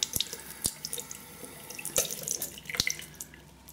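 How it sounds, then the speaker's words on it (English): Water running from a tap to wet a shaving brush before lathering bay rum soap, with splashes and drips under a thin steady trickle, close and fairly quiet. "I'll just wet the brush a little"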